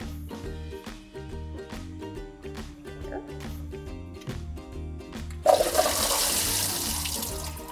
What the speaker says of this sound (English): So I'm going to rinse these off from the salt, and then I'm going to add them to this mixture.